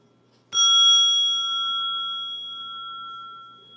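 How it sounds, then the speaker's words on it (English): A single calming bell chime struck once, ringing out clear and bright, then sustaining with a long, slowly fading resonant tone alone in a quiet room. "I'll do one more little calming bell so you guys can leave peaceful"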